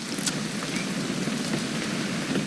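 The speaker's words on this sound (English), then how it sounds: "It's gonna rain the whole weekend," Steady rain falls in the video game What Remains of Edith Finch, a soft, even patter that continues without a break and has no talk over it.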